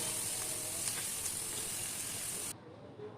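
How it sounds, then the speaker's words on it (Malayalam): Onion, ginger and garlic sizzle in a pan for masala, a steady bright frying hiss that runs close and even, then cuts off abruptly near the end, leaving a quiet room. "തൊട്ടപ്പുറത്തെ ചട്ടിയിൽ ഞാൻ മസാല ഉണ്ടാക്കാൻ സവാള ഇഞ്ചി വെളുത്തുള്ളി എല്ലാം കൂടി ഇട്ട് നന്നായി വഴറ്റിയെടുത്തു"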